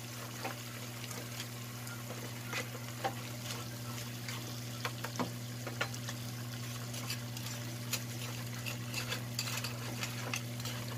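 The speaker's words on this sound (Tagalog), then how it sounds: "Imimix lang natin yan. Para mag-absorb yung sauce dito sa ating chicken." Chicken is stirred in buffalo sauce in a pan with soft, irregular scraping and light sticky clicks over a steady low hum, fairly faint throughout.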